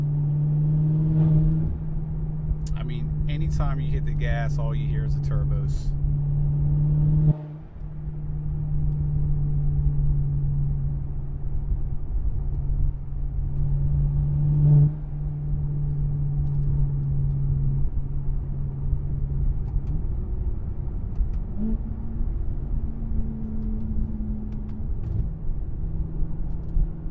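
A BMW M6 twin turbo tuned to 850 HP with an Akrapovic exhaust pulls hard from inside the cabin, a steady droning engine note with turbo whir, briefly dipping at a gear change before climbing again.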